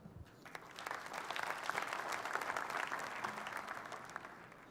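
An audience at a formal event in Africa gives a round of applause for a group. The clapping is quiet, distant and sustained, builds slightly at first and holds steady throughout.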